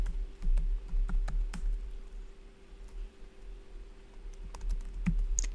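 Keys clack irregularly on a computer keyboard while HTML code is typed, quiet close taps in short clusters over a low steady hum.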